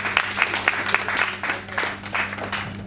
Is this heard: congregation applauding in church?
yes